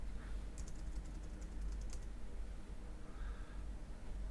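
Code being typed on a computer keyboard while building ASP.NET Core Razor Pages routing, a short burst of quiet clicking keystrokes in a rapid run, faint against a low steady hum, with no talk.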